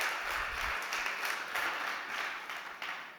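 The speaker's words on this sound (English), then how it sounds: "Can we have a big round of applause one more time for Isabella Kruzek-Kott from Space to Grow?" An audience at a startup pitch competition applauds, a soft, diffuse wash of clapping that holds for a few seconds and slowly fades.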